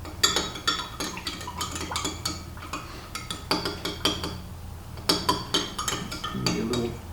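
A metal spoon clinks steadily against a container while stirring a tablespoon of honey into a sanitizer spray mixture, giving close, rhythmic taps and scrapes with no talking.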